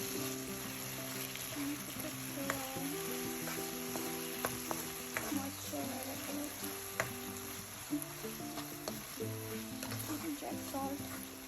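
Chicken shashlik sauce cooking in a pan: a steady, close sizzle and bubbling frying hiss throughout, with faint stirring clinks and a voice talking over it.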